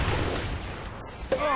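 Gunfire during a Community Slayer match in the Halo Reach video game: a dense, close burst of rattling shots that briefly thins, then spikes again, with a voice faintly mixed underneath.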